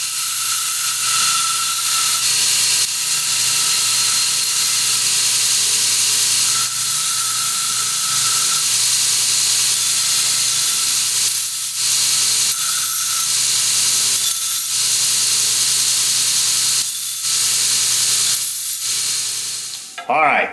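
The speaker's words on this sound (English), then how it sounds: "I might as well use my grinder to deburr the ends where I cut it." A 2x72 belt grinder runs steadily and loud as cut metal ends are deburred against the belt, giving a continuous hissing whir with brief changes in pitch where pieces are pressed on and lifted off.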